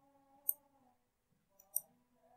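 Two crisp, close computer mouse clicks land about a second and a quarter apart while building a free website, each short and sharp above a faint, steady tonal hum in the background.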